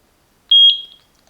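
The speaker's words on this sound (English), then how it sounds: "Press the sync button until you hear the beep." A single short, high-pitched electronic beep from a eufy security camera being synced sounds clearly in otherwise near silence.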